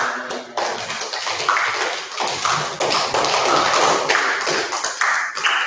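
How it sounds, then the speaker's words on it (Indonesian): A classroom of students claps together in a sustained, dense patter of hand claps, fairly close and lively, with no talking over it. "Beri tepuk tangan untuk kita semua"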